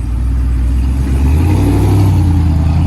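Ram Power Wagon pickup with a 6.4L Hemi V8 and aftermarket exhaust revving loudly up close, a deep rumbling note rising and holding steady throughout, with no talk.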